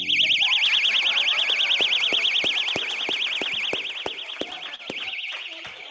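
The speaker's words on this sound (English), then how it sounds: "Safety alarms that were given out." A personal safety alarm blares in a loud, steady warble that sweeps rapidly up and down, with sharp rhythmic clicks ticking underneath throughout.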